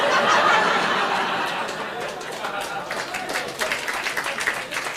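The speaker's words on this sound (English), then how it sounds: "the round of applause for the mention of a fry-up" A crowd applauds, dense clapping that gradually thins out, with scattered chuckles and laughter mixed in.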